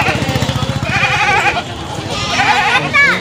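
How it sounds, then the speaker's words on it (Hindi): Goats bleat loudly and repeatedly as they are unloaded from a truck at a goat market, with wavering cries close by and people talking over them. "लो जी अब आ रहा है बड़ा बकरा।"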